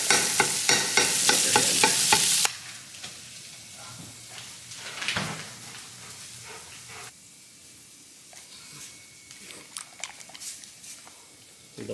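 Food sizzles and fries in a hot pan, loud at first with bright steady crackle, then quieter frying under occasional stirring scrapes and clatter.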